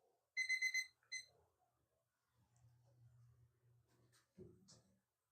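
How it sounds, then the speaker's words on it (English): A short burst of four quick high electronic kitchen-timer beeps during baking, then a faint extra beep, followed by quiet low background sounds and a brief soft voice. "it's beeping."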